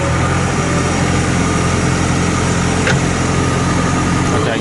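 A JCB 3CX Contractor backhoe engine runs loud and close, a steady rough diesel drone held at raised revs for the whole stretch, with no clear change in pitch.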